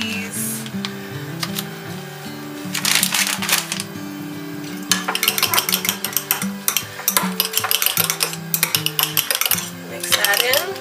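Cheese mixed into quiche filling in a bowl, with brisk repeated clinking and scraping of a utensil against the bowl, close and fairly loud, coming in bursts.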